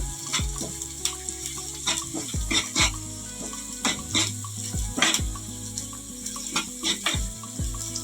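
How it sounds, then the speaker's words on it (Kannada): Ginger garlic paste fries in a pan under a constant sizzle, broken by repeated rhythmic scrapes and knocks of a spoon stirring it, close and fairly loud with no talking. "ಶುಂಠಿ ಬೆಳ್ಳುಳ್ಳಿ ಪೇಸ್ಟ್ ಕೂಡ ಚೆನ್ನಾಗಿ ಹಸಿ ವಾಸನೆ ಹೋಗೋ ಗಂಟ ಫ್ರೈ ಮಾಡ್ಕೊಂಡಿದ್ದೀನಿ"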